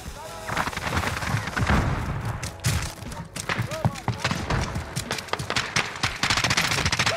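Rapid bursts of automatic gunfire and sharp single shots crackle through a Modern Warfare match, loud and close, broken by brief pauses while a player's voice calls out over the shooting.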